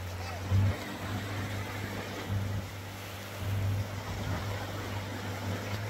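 A speedboat motor runs steadily at low revs on open water, a constant droning hum with brief surges as the throttle opens, while people talk faintly underneath.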